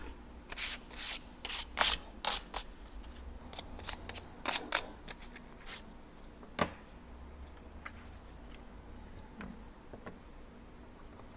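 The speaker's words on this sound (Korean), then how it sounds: "요거를 사포로 조금 결 정리를" Sandpaper smooths raised grain on a small painted wooden ornament in short, quiet, scratchy strokes, clustered early and then thinning into sparse rubs.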